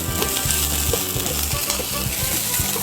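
Food stir-frying in a hot pan at a roadside cooking spot, a steady loud sizzle with the constant scrape and clatter of a utensil tossing ingredients, close up and without any voices.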